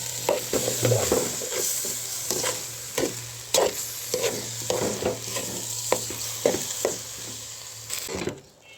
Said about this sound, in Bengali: সবজিগুলি দিয়ে কষায় নিচ্ছি।